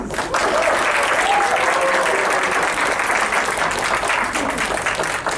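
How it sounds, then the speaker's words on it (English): A crowd claps in sustained, steady applause for inductees at an induction ceremony, filling the whole stretch at an even loudness. "join me in giving a round of applause to our inductees."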